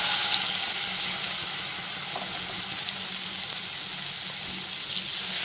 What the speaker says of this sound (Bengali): মশলাটা যাতে পুড়ে না যায় ওই জন্য পরিমাণ মতো জল দিয়ে দিলাম।